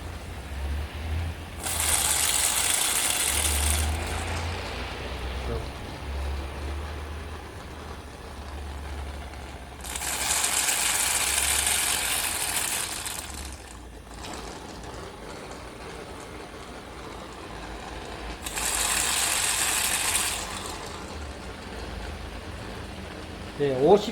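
A vacuum pump drones low and steadily during car air conditioner servicing while three loud bursts of airy hiss rise and fade at regular intervals.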